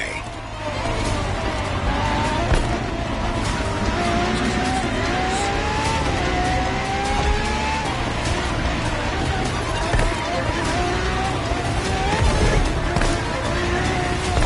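Ferrari FXX K race car driven in The Crew Motorfest, its engine roaring steadily and loud throughout, with shifting revs, tire noise and faint talk underneath.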